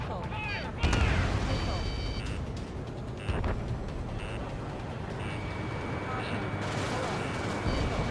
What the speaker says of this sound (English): That aircraft emitted all that anti-air fire?